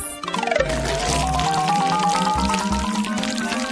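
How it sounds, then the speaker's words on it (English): Nutella poured into small foil molds shaped like little logs, a soft continuous pouring and trickling sound with tonal resonance, heard alone without talk for a few seconds. "Then, I will pour my favorite Nutella inside."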